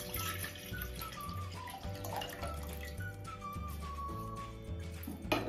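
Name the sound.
water being poured into a steel pot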